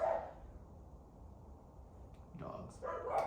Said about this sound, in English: Sorry, dogs are barking outside.